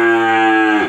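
An F2 crossbred cow moos once, loud and close, in a single sustained low, resonant call lasting about a second that tapers off at the end, with no voices.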